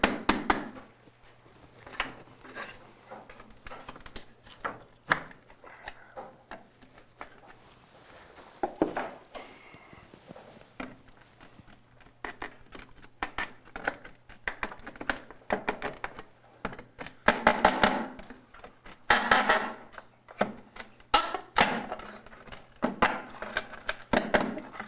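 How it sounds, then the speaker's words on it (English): A pry bar with a stiff old putty knife behind it pries wood trim during house demolition, producing irregular knocks, cracks and scraping bursts at close range, some loud and sharp, with no talking. "by keeping the putty knife behind the pry bar, you won't put any dents or marks into the other wood that you're prying against"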